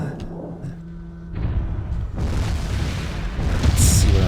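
A building collapsing under a heavy explosion in the mech combat video game Mechwarrior 3, a loud broad rumbling blast that swells after a quieter start and keeps roaring and crackling to the end.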